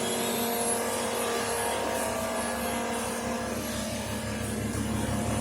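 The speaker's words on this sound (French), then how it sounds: "Nous commençons avec une petite vidéo démarrage de la Golf." A Volkswagen Golf Mk3 VR6 engine idles with a steady, throaty hum and a constant mechanical whir, close and even throughout.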